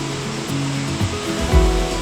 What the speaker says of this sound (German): Der Cascade du Sceau ist ein kleiner, natürlicher Wasserfall, der sich über felsige Stufen seinen Weg hinab ins Tal sucht.